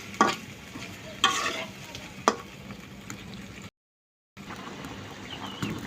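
Washed rohu fish pieces being stirred into spice paste in a pan, a soft continuous sizzle punctuated by three distinct scraping stir strokes, then a short silent gap before the frying resumes, no talk.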